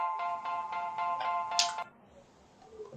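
Background music in a PowerPoint slideshow: a short run of bright, evenly spaced tonal notes plays for under two seconds, then cuts to near silence, with no talking.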